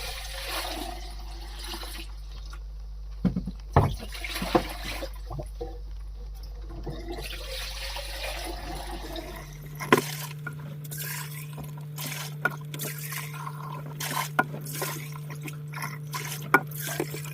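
Water from a boat's newly installed plumbing runs and trickles quietly, with a low steady flow that changes pitch partway through and scattered drips and clinks over it.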